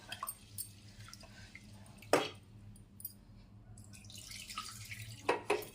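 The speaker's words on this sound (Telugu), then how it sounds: "ఇది బాగా 3 సార్లు శుభ్రంగా కడుక్కోవాలి." Red lentils (masoor dal) are rinsed in water in a bowl, giving a few close squishing, sloshing splashes with quieter trickling between them.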